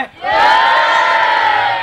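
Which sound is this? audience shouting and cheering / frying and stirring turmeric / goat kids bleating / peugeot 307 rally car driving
audience shouting and cheering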